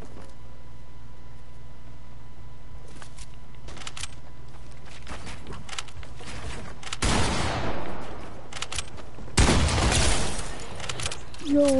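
A no-scope sniper shot in a video game cracks out amid loud bursts of gunfire and crashing impacts, rising sharply in the second half after a quieter stretch of low background game noise.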